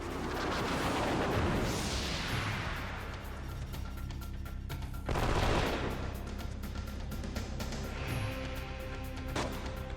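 Gunshots in the Wild Arms 3 video game: heavy blasts with sweeping crashes ring out over layered game sound, with booming impacts near the start and midway and smaller shots afterward.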